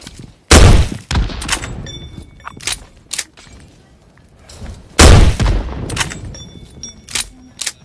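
Two loud, booming grenade-launcher explosions in the battle-royale shooter Metro Royale (PUBG), several seconds apart, each with a sharp blast and rumbling tail, mixed with scattered gunfire and game effects.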